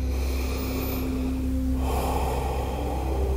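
Deep breathing during a yoga session: a long close inhale through the nose followed by a fuller exhale, heard alone over a soft steady background hum.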